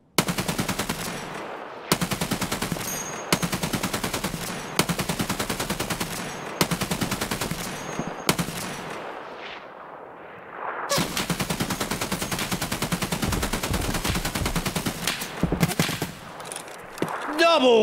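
Automatic machine gun fire in the video game Escape From Tarkov, rapid sustained bursts loud and close, broken by short pauses, with a voice talking over the shooting.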